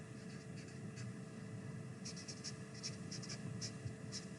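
A pen scratches out words on paper in a classroom math lesson, with faint, quick scribbling strokes in short clusters over a steady room hum, close but quiet, no voices.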